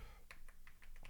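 Typing on a computer keyboard, a quick burst of about seven light, close keystrokes in an uneven rhythm over a faint background.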